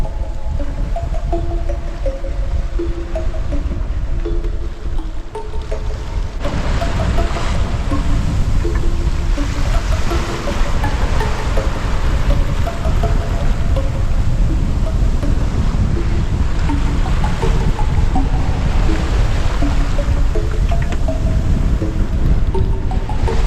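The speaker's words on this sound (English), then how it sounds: "really surfing on these waves" Waves and wind rushing around a sailboat surfing down swells off New Zealand's rugged west coast, a steady loud wash with gusty microphone buffeting throughout.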